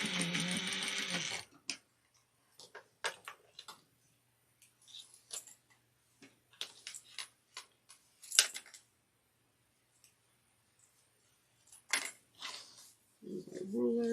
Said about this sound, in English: we're going to sew 1/8 of an inch across